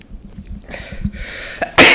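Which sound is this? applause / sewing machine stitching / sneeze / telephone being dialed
sneeze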